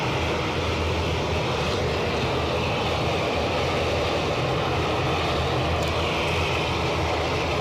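An Aer Lingus airliner at Newcastle airport fills the air with a steady, broad jet-engine roar that holds loud and unbroken throughout, with no voices heard.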